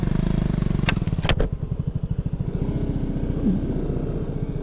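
A motorcycle engine idles close by with a fast, uneven putter, a few sharp clanks near the start, and no talking over it.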